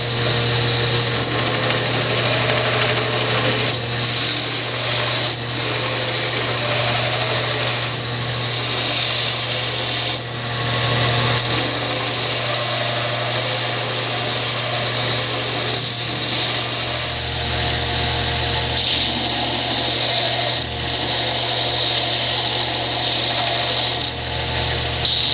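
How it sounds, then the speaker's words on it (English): An angle grinder shapes the steel head of a clipping hammer, a loud, continuous abrasive whine and rasp that runs close for the whole stretch with brief dips and pressure changes. "So when we grind, if we've got a lot of material to take off, we're going to use that same concept."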